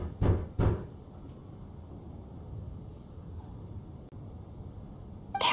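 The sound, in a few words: knock at the door in video game Genshin Impact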